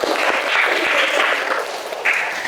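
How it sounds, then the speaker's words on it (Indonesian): Students in a class clap together, a short, fairly dense round of applause from a small group that fades a little midway, then picks up briefly near the end, heard on its own without speech. "tepuk tangan buat semuanya"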